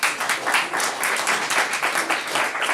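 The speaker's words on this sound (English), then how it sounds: "So let's give him another round of applause." An audience breaks into a steady round of applause, dense overlapping claps sustained at an even level throughout, with no voices standing out.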